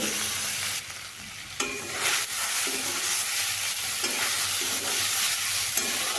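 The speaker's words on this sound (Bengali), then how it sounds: "ডালগুলোকে আমি এইভাবে মিশিয়ে নিচ্ছি একটু এবার ভেজে নিচ্ছি" Boiled chana dal is stirred and fried in a pan, giving a steady hot sizzle with scraping spoon strokes throughout and no talking.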